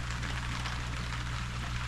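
Steady rain falls outside an off-grid cabin in Southeast Alaska, a dense even patter holding at constant level throughout, with a low hum underneath and no voices.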